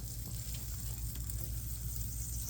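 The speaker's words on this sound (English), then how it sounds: "So we'll just give these a little sear on the grill" Prosciutto-wrapped asparagus searing on a grill, giving a steady, faint sizzle with a low background hum, continuous and without talk.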